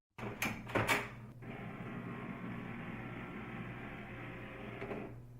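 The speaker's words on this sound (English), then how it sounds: "Wait about 10 minutes for your printer to stop making noises before you proceed." Several sharp mechanical clacks open, then an HP DeskJet inkjet printer clearing a paper jam settles into a steady whirring, buzzing drone that continues until it cuts off abruptly.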